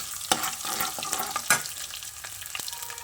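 Mustard seeds and cumin sizzle in hot oil for Telugu ripe red chilli and tomato pickle, a steady crackling fry punctuated by sharp pops and spatters, close up with no talk.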